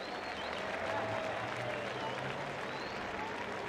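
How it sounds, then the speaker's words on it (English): Crowd at a Formula Drift Pro Spec Round 1 Top 32 motorsport event applauding and cheering steadily, a broad wash of clapping that holds at an even level for several seconds. "Round of applause for Matt Field. Make some noise for Matt Field."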